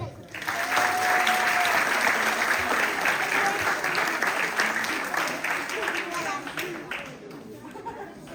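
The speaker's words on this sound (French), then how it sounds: "Merci de l'applaudir" Audience applause at a judo and jujitsu school's end-of-year show, a steady wash of clapping that swells early and slowly tapers, with a brief voice and some chatter mixed in.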